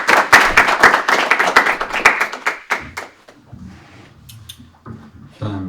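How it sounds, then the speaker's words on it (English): An audience at an evening spiritual talk claps loudly and densely for about three seconds, then the applause thins out to a few scattered claps and quiet room noise. "let's give a big round of applause for Maharaj."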